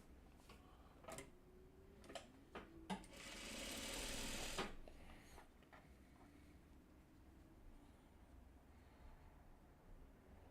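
A sewing machine stitches a Four Winds quilt block for a short, loud burst of about a second and a half. Scattered sharp ticks and clicks from handling the machine come before and after it, and a low room hum lies underneath.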